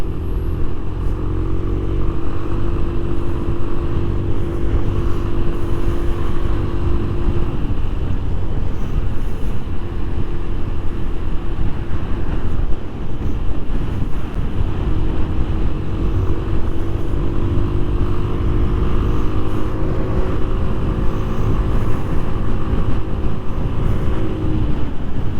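Genuine Buddy 170i scooter riding through traffic, a steady close engine drone under loud wind buffeting on the microphone, with pitch rising and falling as it accelerates and eases off, no talk.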